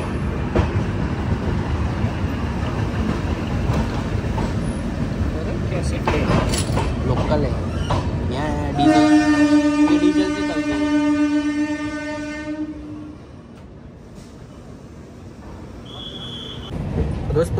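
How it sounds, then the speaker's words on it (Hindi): Swaraj Express train running just after leaving the station, a steady loud rumble of wheels and carriage noise with a long horn-like tonal blast in the middle, then the rumble eases. "दोस्तों अभी हम MCTM से डिपार्ट कर चुके हैं और हमारी ट्रेन ऑन टाइम चल रही है।"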